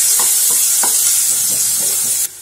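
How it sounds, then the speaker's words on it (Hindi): Onions frying in a hot pan with cumin seeds and a pinch of asafoetida, a loud steady sizzle and hiss with a few soft stirring scrapes, alone and close, dropping slightly at the end. "प्याज हमारी भुन गई है।"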